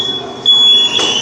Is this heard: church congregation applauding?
no